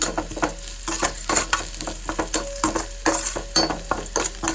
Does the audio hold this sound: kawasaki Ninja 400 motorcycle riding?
no